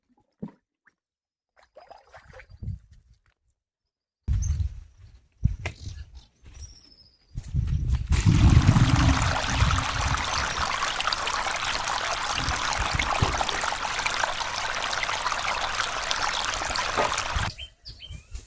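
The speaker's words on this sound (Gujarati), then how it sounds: "હવે આપણે પંપમાં પાણી ભરી લેવું." Water pours steadily into a vehicle washing pump in a village yard, a close, continuous gushing that starts after scattered knocks and handling noises, with faint birds in the background.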